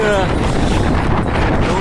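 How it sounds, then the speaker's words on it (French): Strong headwind of about 40 km/h buffeting a cyclist's microphone on a valley descent toward a lake, a loud, continuous low rumbling roar that fills the whole stretch without letting up. "il y a 40 km/h de vent contre moi"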